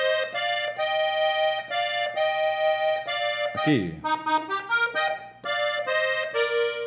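Accordion in F plays a short passage from the intro arrangement of Las Mañanitas, with sustained reedy chords and a quick run of stepped notes in the middle, loud and close; someone briefly speaks one word.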